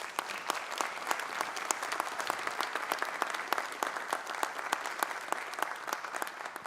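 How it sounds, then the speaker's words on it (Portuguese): Audience at a solemn assembly session applauding, continuous crisp clapping from many hands with distinct individual claps standing out, steady and sustained throughout. "a quem peço também uma salva de palmas."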